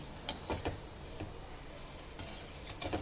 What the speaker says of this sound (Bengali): এই তেলের মধ্যে দিয়ে আমি ভেজে নেব